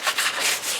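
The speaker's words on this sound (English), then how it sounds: "Turning it, sanding." Sandpaper is held against a wooden rolling pin spinning on a lathe, producing a close, loud, continuous abrasive hiss that swells slightly as pressure shifts, with no voices.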